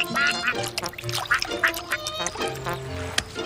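A cartoon duck quacks in rapid, close bursts, several nasal quacks in an irregular rhythm, loud against light background music.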